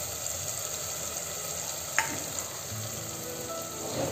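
A soya chunk biryani mixture with fennel is sautéed in a pan, giving off a constant close sizzle and hiss, with one brief clink of a utensil partway through.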